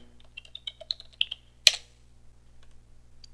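Fast typing on a computer keyboard at a Linux login prompt, a run of light clicks ending in one louder, sharper press of the enter key, then near silence.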